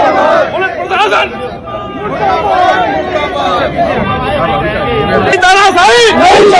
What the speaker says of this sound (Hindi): जहां नारे लग रहे थे तानाशाही के खिलाफ, पुलिस तेरी तानाशाही नहीं चलेगी